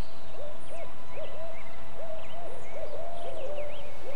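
An owl in a forest soundscape gives a long series of repeated hoots, loud and fairly close, with fainter calls overlapping in the background and no talking.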